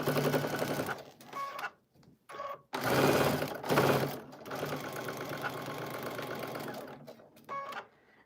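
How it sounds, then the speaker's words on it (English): A sewing machine stitches along a dashed line during paper piecing, running in close, loud whirring bursts that stop and start repeatedly, with brief quiet gaps between runs. "now I am sewing on the dashed line"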